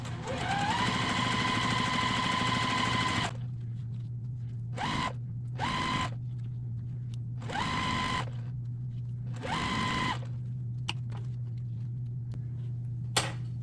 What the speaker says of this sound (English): as I keep sewing